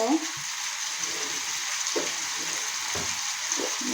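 Beans and tomatoes frying in a pan of a home-grown vegetable curry, a steady close sizzle with a few soft stirring knocks and scrapes throughout, no talking.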